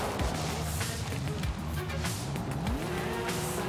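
A car drifts in the racing game Forza Horizon 5, its engine revving and gliding in pitch while the tires squeal through the slide, loud and continuous for a few seconds.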